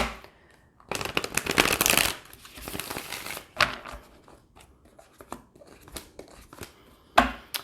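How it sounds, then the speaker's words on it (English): Tarot cards being shuffled by hand for an October Gemini reading, with a dense riffling burst early on, then scattered soft slaps and flicks of the deck, and a final sharp snap near the end. "One more shuffle."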